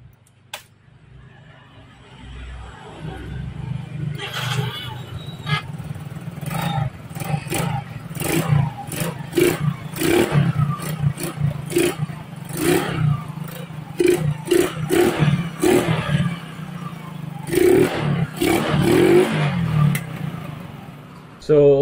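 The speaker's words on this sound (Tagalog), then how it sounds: "Ngayon lang uli umandar yung motor ni boss." A motorcycle that had not run for months, now fitted with a new computer box, starts up after repair. It settles into a close, steady idle, then gives repeated sharp throttle revs throughout.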